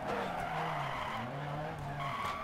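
A 1970s rally car on a German stage in Dirt Rally skids and spins out as its rear tires catch the dirt, with a steady loud engine drone and tire scrubbing throughout.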